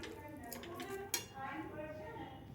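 A spoon stirs and scrapes ingredients in a pan on low heat, with a few soft metallic clinks and one sharp tap near the middle. Someone speaks over it throughout.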